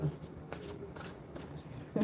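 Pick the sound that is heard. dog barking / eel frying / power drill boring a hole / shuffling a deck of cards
shuffling a deck of cards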